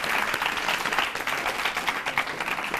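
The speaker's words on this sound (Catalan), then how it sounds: "Aplaudiments." A studio audience at a televised Catalan word game show bursts into steady applause, a dense, even wash of many hands clapping throughout, with no speech over it.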